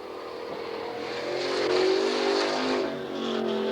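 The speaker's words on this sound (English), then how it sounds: "Car number 87, Mark Potoff, racing against the clock now" A 1988 race car at Coos Bay Speedway makes a qualifying run against the clock, its engine a steady, buzzing roar that swells in pitch and volume as it accelerates, then eases back slightly, heard from a moderate distance.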